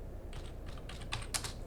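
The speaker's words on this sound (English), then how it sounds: "so we'll type ping" A few quick taps on a computer keyboard as a ping command is typed, soft and close in a quiet room.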